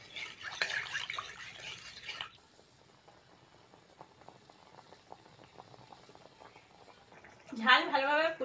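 Spicy curry broth bubbles in a pan with a soft, steady simmer, mostly faint, and brief louder bursts of clatter or handling at the start and end.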